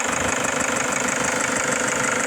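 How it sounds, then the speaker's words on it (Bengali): A car engine idles close by with a steady, even mechanical throb and slight knocking vibration. "খুবই সুন্দর ইঞ্জিন পারফরমেন্স এবং ইঞ্জিনের সাউন্ডটা"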